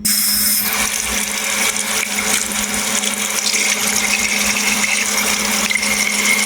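Tap water gushes loudly and steadily while a raw turkey is rinsed inside and out in a kitchen sink, a close, continuous splashing hiss with no pauses.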